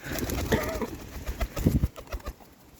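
A newly acquired young pigeon coos in a few close, throaty bursts that fade toward the end, with no talking.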